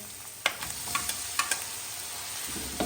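Tomatoes hit a pan of fried ginger-garlic paste, giving a steady faint sizzle with several sharp crackles and stirring clicks, no voices.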